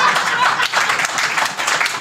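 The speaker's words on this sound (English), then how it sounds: "Applause." At a college research centre launch ceremony, an audience claps steadily and fairly loudly for about two seconds, a continuous crowd of hands with no voices on top.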